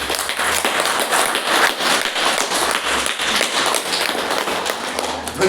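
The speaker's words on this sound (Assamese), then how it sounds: "আপোনালোকে অন্তৰৰ পৰা এটা জবৰদস্ত হাত চাপৰি দিব" An indoor audience at a marketing seminar breaks into loud, dense applause, a continuous rapid crackle of many hands clapping close by for several seconds, with no voices.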